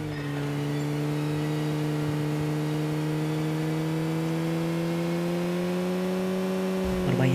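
A vehicle in a battle royale video game drives steadily, its engine producing a continuous mid-pitched hum with a slight rise near the end; the sound is loud and constant throughout.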